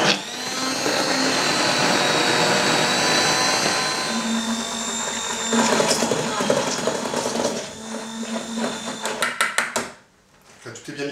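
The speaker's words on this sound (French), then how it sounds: "On vient mixer un petit peu." A blender whirs loudly, mixing lime tart cream with gelatin, olive oil and butter, running steadily for several seconds before rattling and stopping near the end.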